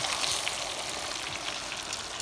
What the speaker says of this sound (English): You get some more of that frying.